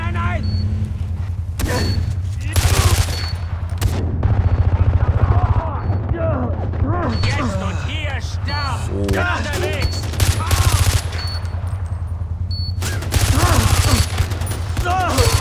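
Mounted gun in Far Cry 4 firing in long sustained bursts, loud and close, with a few gaps between volleys; someone talks in German over the gunfire.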